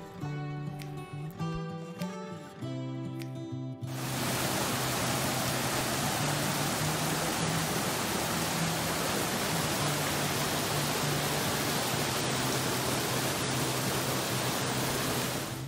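A waterfall beside a dam on the Tennessee River, near the Muscle Shoals side, roars as a loud, steady, broadband rush that starts suddenly a few seconds in after brief tonal sounds, then continues unbroken.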